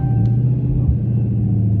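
A Dodge Demon 170 rumbles at low RPM with a deep, steady engine drone, held down on launch control, loud and close with no talk.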